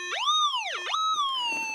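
A metal detector over buried iron in the wall of a mullock pile at a gold mine gives a warbling, sweeping electronic tone that rises and falls twice, then slides into a steadier fading pitch, close and alone.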